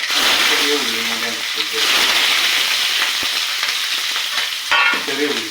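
Small onions frying in hot oil after mustard seeds have been tempered, a loud steady sizzle with stirring clatter throughout and a voice speaking over it.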